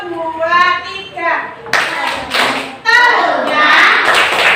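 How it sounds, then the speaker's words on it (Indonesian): Young children chant a metamorphosis clapping song in a classroom, voices singing together in a sing-song pattern. Sharp hand claps are scattered among the lines, close and lively. "Bisa menyanyikan tepuk metamorfosis?"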